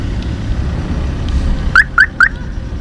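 Three short rising electronic chirps from a Benelli 150S motorcycle security alarm sound in quick succession near the end, over a low rumbling outdoor background.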